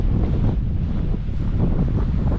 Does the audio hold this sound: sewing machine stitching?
no